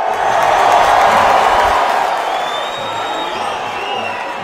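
Football crowd at a stadium match roars and cheers as Flamengo players arrive, a dense wash of shouting and whoops that swells loudly and then eases slightly while staying sustained throughout.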